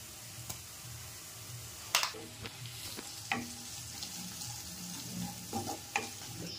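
Ginger garlic paste with salt and turmeric fries in hot oil, giving a soft steady sizzle broken by a few sharp clicks and spoon taps against the pan, close by and fairly quiet.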